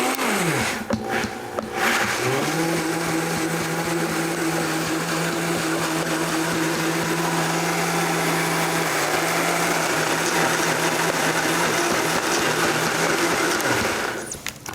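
A blender spins up and runs steadily, whirring loud and close as it purees soaked sea moss into a thick gel, then winds down at the end.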